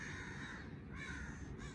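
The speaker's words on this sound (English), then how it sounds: "What are those crows?" Several crows caw at an outdoor grave and crash site, harsh calls that sound a little distant and come in short bursts over a constant background hiss.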